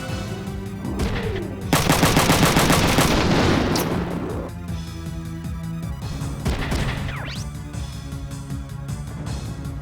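Enemy machine-gun fire in Front Mission 3 rattles out in a dense, loud burst of rapid shots, then fades into scattered impacts and mechanical game sounds.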